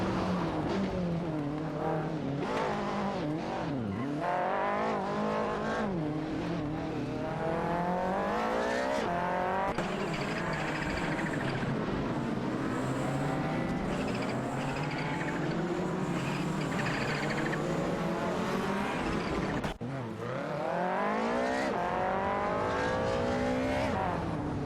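Race cars in a racing video game, among them an Audi Sport Quattro S1 E2, howl through continuous engine revs and gear shifts as they jostle and overtake. Layered whining engine notes overlap steadily with a faint tire squeal and no talking.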